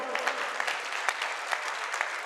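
An audience at a mushaira poetry gathering gives steady applause, a soft, even patter of many hands with occasional sharper claps, heard from some distance.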